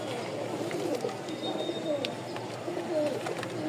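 A pair of red Muksi pigeons, a male and a female, cooing softly at close range over a steady background hum, with a person talking nearby.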